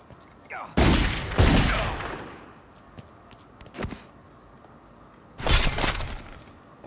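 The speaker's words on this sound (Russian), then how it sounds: "Так, уже перестрелка," Bursts of video game gunfire in a shootout from The Godfather II, two loud volleys early on, a sharp shot in the middle and another heavy burst near the end, with quieter stretches between.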